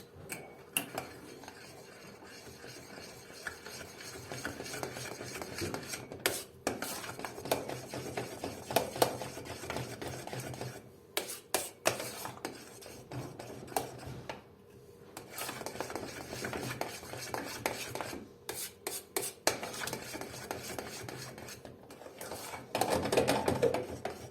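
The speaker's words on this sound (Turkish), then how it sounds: "bir paket vanilya ilave ederek tatlımızı tekrar güzel bir şekilde çırpıyoruz" A whisk scrapes and clicks against a pot of milk pudding dessert after vanilla is added, in irregular bursts with short pauses, close and fairly soft.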